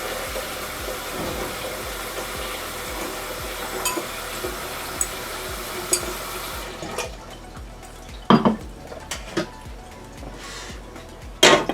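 Tap water runs steadily into a kitchen pot filled halfway for boiling potatoes, a continuous rushing stream for several seconds that then gives way to clinks and handling knocks.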